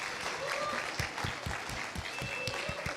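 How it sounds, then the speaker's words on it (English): Audience applause at the closing and prize-giving ceremony of International Marketing Week, a steady wash of hand clapping with some sharper individual claps throughout. "we think they deserve a big, big applause"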